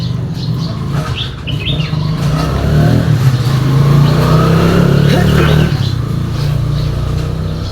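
A car engine hums and revs steadily as the vehicle pulls out, loud and close, with birds chirping faintly in the background.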